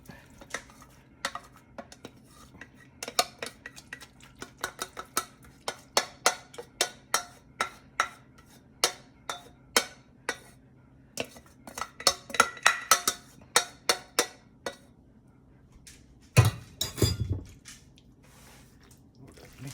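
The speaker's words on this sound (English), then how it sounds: "Mix it up, blend it up nicely." Spoon stirring American chop suey with cheese in a pot, a steady run of light metallic clinks and scrapes with soft wet squishing, close and alone, ending in a louder burst of clatter.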